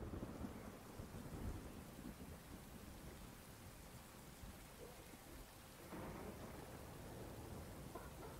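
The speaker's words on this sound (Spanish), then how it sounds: "En el bosque, la tormenta," Steady heavy rain with rolling thunder in a forest and mountain storm scene from a video game trailer, a continuous dense wash of rainfall with low rumbles, swelling louder near the end, no voices.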